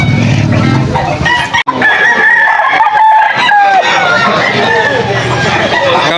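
A two-year-old Claret Sweater fighting rooster crows loudly and close amid the chatter and bustle of a pet market, with other fowl clucking and people talking in the background.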